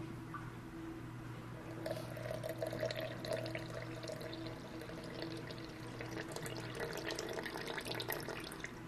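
Water from a tap is poured into a sourdough starter jar in a home kitchen, making a steady, close pour and trickle that strengthens partway through, with no talk over it.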